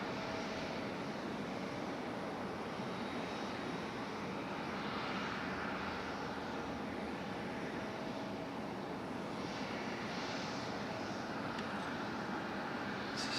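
An airplane arrives at Raleigh-Durham International Airport with a steady, broad engine roar that stays loud and even throughout, heard from a spotting position.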